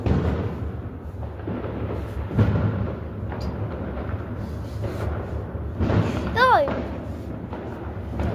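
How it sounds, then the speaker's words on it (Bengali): Firecrackers burst on New Year's night: scattered muffled booms and thuds, some distant, some nearer, with a whistling rocket rising near the end. Voices talk over the noise. "অনেক বাজি ফাটছে। হ্যাঁ, অনেক বাজি ফাটছে।"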